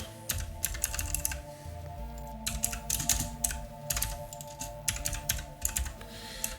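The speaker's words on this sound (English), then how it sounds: "I'm not even typing these properly now." Rapid typing on a computer keyboard, bursts of quick key clicks separated by short pauses, close and clear over a steady low hum.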